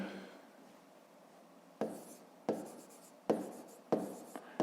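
A pen scratches out a math solution on paper in a series of short strokes, each starting sharply, quiet and close, with a steady background hiss and no talking.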